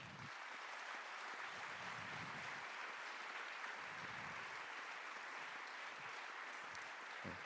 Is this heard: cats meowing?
no